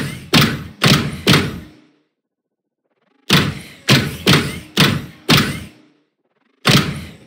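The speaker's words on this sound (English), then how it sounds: "that's going to be kind of like the main footstep impact sound" Footstep impact sounds made for an interactive game audio project: heavy, close, punchy thuds in short bursts of three, four and one, each with a quick decay and clean silence between groups.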